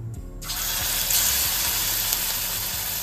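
Topse fish coated in gram flour hit hot oil with a sudden loud sizzle that settles into a steady, close frying hiss, with no talk over it.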